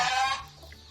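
Hens cluck loudly at close range for a moment, then fade into a quieter background.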